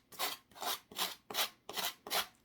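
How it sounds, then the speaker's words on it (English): Six rhythmic back-and-forth rasps of a sanding block against the edge of a wooden cross, close and steady, each stroke a bright gritty scrape with brief pauses between. "I'm just going to grab the sanding block"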